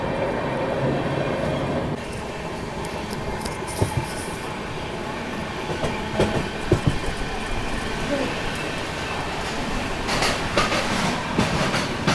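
The Mumbai Rajdhani Express runs past Udhna Junction just beyond Surat, heard from on board as a loud, continuous rumble with rhythmic clickety-clack of wheels over rail joints and occasional metallic squeals.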